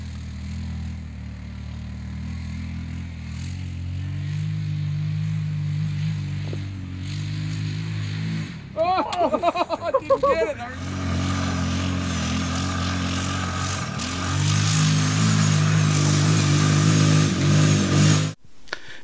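A 2009 Kawasaki Teryx side-by-side with automatic gearbox and four-wheel drive runs with a steady low engine drone, a brief rougher burst midway, then a rising rev near the end, fairly close and loud.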